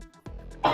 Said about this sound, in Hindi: पर ये तो किसी आदमी की खांसने की आवाज थी